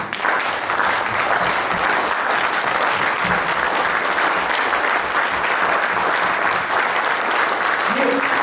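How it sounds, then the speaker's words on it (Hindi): Sustained loud applause from a standing audience at an Envalior corporate event fills the whole stretch, steady and dense, with a brief voice surfacing near the end. "इस चीज के लिए हम सबको खड़े रह के सबके लिए जोर से ताली बजानी चाहिए।"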